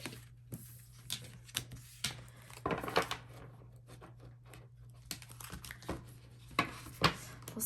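Tarot cards shuffled by hand at a quiet table: soft, irregular riffling and flicking bursts with faint papery slaps, close but low in level, with no speech.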